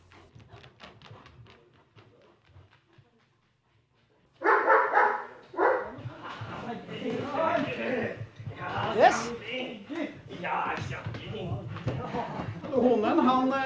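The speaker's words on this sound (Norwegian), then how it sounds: "Når hunden halser et par ganger" A police training dog at a dog centre barks in several loud, close bursts, mixed with people talking and quieter sounds at the start.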